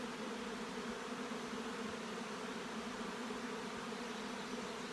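Honey bees buzzing at an open beehive during brood-frame inspection, a dense continuous hum filling the air at close range without pause.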